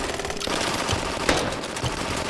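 Sustained rapid machine-gun fire in Call of Duty: Modern Warfare, close and loud, with one sharper crack standing out midway through the steady stream of shots.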